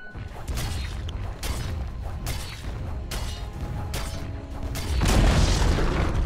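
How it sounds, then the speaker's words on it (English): A tower crumbling in the Dota video game, a burst of booming, crashing destruction that swells near the end over a dense, continuous bed of game battle noise, with repeated sharp impacts throughout. "Dire's top tower has fallen."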